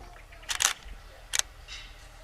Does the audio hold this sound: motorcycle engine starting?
no